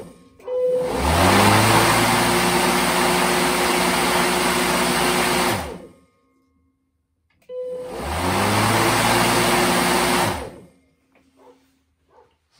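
Makita DLM431 cordless lawn mower switched on twice, each run a loud steady motor and blade whine lasting several seconds, rising quickly at start and winding down to silence before the second start.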